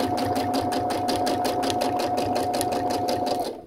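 A Brother sewing machine runs steadily while free motion quilting through fabric, its needle chattering in a fast, even rhythm with a constant motor whine before winding down at the end.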